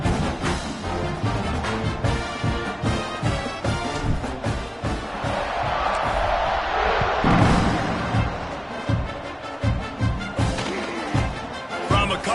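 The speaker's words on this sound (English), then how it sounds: "this crowd is buzzing after that last score." An American football stadium crowd buzzes after a score: a loud, continuous roar that swells in the middle, with scattered thumps and bursts throughout.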